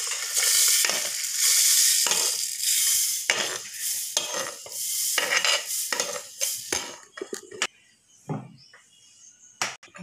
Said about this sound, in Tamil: இப்போ இதை வறுத்துட்டோம்.